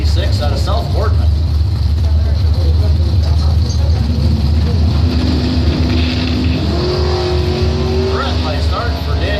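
Drag racing cars, a Chevrolet S10 and a Camaro, launch down the strip with loud roaring engines that climb in pitch as they accelerate, while an announcer talks over the noise.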